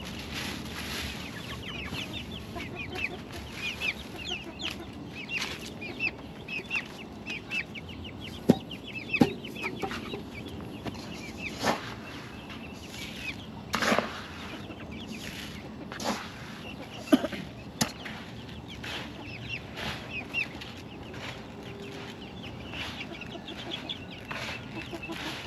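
Backyard chickens cluck intermittently at a distance over steady outdoor ambience, with occasional sharper calls and no talking.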